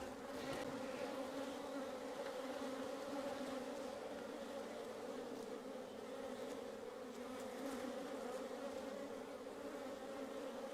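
Honeybees swarm around a beehive on a farm in Portugal, a dense, continuous buzzing drone that stays steady and close, with no voices over it.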